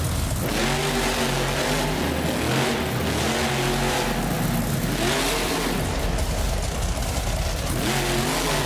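Monster truck engine at a Monster Jam event in a video game, revving hard in repeated rising and falling surges, loud and close, with no voices.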